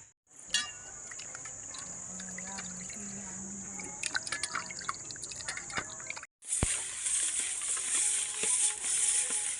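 Fish are washed in water in a home kitchen, with splashing, dripping and sloshing up close, a steady hiss throughout and a louder, busier stretch of rinsing after a brief break.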